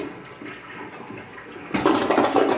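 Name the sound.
cheap hotel toilet flushing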